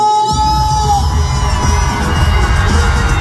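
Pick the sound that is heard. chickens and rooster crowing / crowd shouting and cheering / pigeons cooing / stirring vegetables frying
crowd shouting and cheering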